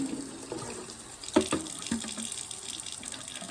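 Tap water splashes while a distressed metal tin is rinsed under it, with a steady hiss and a few sharper splashes and knocks close by.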